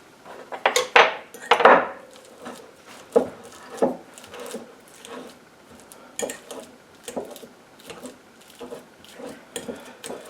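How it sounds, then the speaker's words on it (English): Very ripe bananas are mashed in a bowl for sourdough banana bread, with irregular clinks and scrapes of a utensil against the dish, close and uneven, some hits louder than others. "I'll start by mashing some very ripe bananas."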